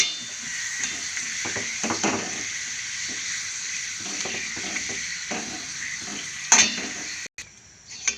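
Something frying lightly in a pan, a steady close sizzle with small clinks and stirring, ending with a brief louder clatter and a short gap.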